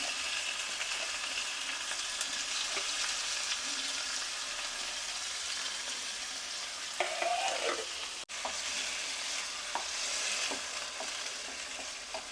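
Chicken pieces sizzle and fry steadily in a hot pan with garlic water added, with scraping stir sounds and a sharp clank of the spatula near the middle, no talking.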